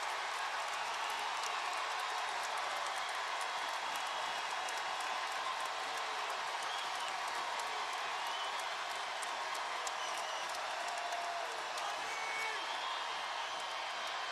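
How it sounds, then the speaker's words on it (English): Crowd noise at a women's college basketball game between the Lady Vols and Mississippi State, a continuous broad roar of cheering and clapping, steady throughout, with no clear voices above it. "The crowd is alive"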